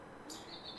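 A bird clock sounds one short, faint electronic chirp, a thin high tweet alone against a soft background hiss.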